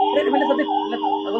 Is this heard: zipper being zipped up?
no